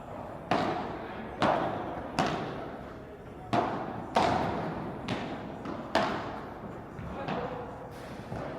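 Tennis ball struck with a racket in volleys during a practice match, a series of sharp thuds repeating roughly every second, clear and close, with faint voices in the background.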